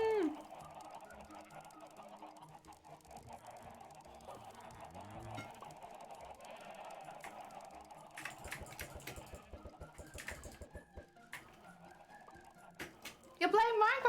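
A dense flock of Minecraft chickens clucks and squawks continuously at close range, with a busy chorus of fowl calls and clicky keyboard-like taps throughout and a louder burst at the end.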